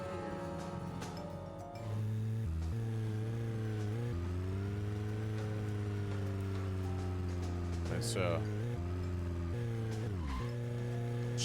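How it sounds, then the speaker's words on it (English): In the Deadly Premonition video game, a car engine revs and drones steadily with pitch shifts and a brief tire squeal, while someone talks over it. "sweet car sound effects"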